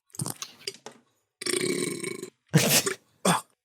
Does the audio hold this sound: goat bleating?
no